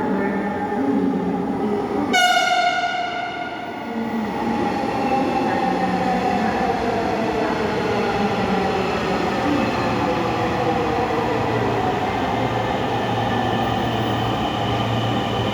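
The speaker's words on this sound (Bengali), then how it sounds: "এই ট্রেনটি মতিঝিল যাবে, টোটাল 6টা বগি আছে।" A six-car Dhaka metro train bound for Motijheel gives a sharp tonal signal, then a steady, loud rolling rumble with a sustained electric whine that continues unbroken.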